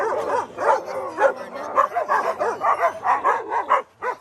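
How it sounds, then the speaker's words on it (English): A sweet female dog at an animal shelter barks and yips in quick, repeated bursts mixed with whimpers, close and loud, with the calls coming in an uneven but steady rhythm. "El nombre de este bello perro que puede ver aquí es Peppermint"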